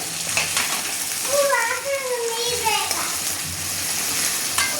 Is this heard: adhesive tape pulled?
no